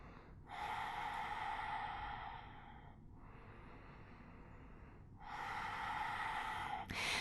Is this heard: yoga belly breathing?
yes